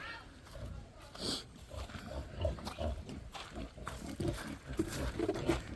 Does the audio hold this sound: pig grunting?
yes